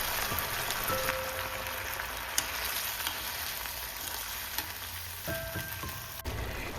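Boiled sweet potato and its cooking water go into a sautéed curry base in a pan for a Kerala-style sweet potato curry without coconut, giving a steady, soft sizzle and bubble with a few faint clinks, and no talking.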